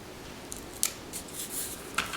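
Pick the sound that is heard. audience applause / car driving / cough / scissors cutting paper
scissors cutting paper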